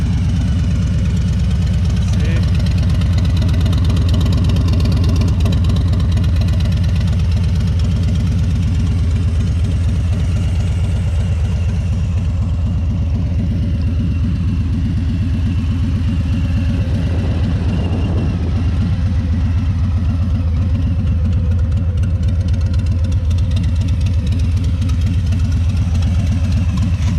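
A Harley-Davidson Softail Street Bob with a Two Brothers Racing Megaphone Gen 2 exhaust idles steadily and loudly throughout, a deep rumbling low tone with a slightly uneven, lumpy pulse and no talking.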